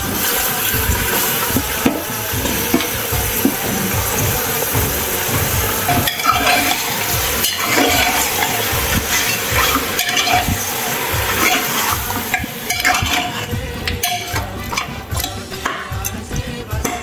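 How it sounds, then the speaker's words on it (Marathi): A goat head with black pepper, cardamom and star anise sizzles and fries in a pot while being stirred, a loud continuous hiss with scraping and clattering from the spoon throughout, close up. "आता आपण ह्यात मुंडी घालून घेऊया"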